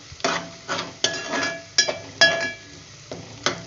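Garlic ginger paste hitting softened onions frying over medium heat, with repeated rhythmic bursts of sizzle and stirring about every half second, close and fairly loud.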